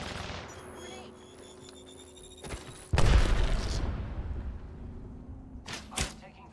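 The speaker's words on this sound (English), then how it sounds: "I'm taking fire, friends." Sharp bursts of gunfire in the video game Apex Legends crack out, one loud close blast followed by a ringing tail and another quick burst, under low background game noise.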